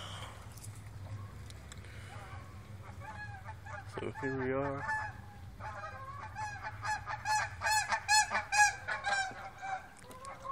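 Ducks honk over and over, loud and close outdoors, with the calls growing denser and stronger in the second half; someone speaks briefly near the start.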